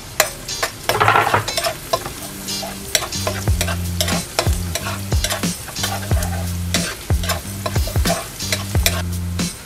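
Garlic sautéing in a pan for chicken caldereta, a steady loud sizzle with repeated scraping strokes of a spoon stirring through it, with no talking.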